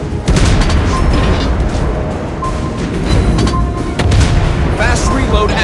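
Naval gunfire from the cruiser USS Indianapolis striking a target in World of Warships Blitz, a loud continuous barrage of booming shell impacts and blasts, with a game voice speaking over it.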